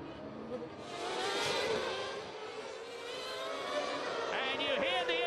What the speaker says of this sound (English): you hear the engine revs rise as Senna, followed by Schumacher